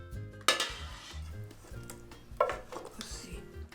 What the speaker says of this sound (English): Maria scoops it into a serving bowl